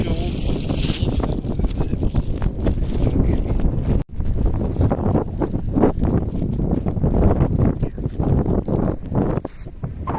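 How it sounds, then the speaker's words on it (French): Strong sea wind buffets the microphone on a beach at Coconut Island, Phuket, a steady loud roar with gusts and one brief dropout, running throughout with no talk. "il y a du vent, je sais pas pourquoi il y a du vent"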